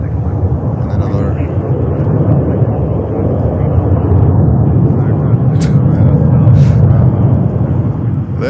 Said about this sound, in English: There's a 321 reversing like crazy. American Airlines reversing on 22 right.